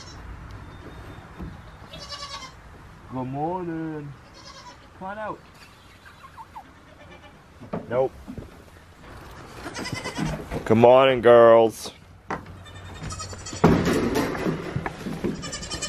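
Young goats bleat repeatedly in short wavering cries, some close and loud, while a person speaks softly between and over the calls.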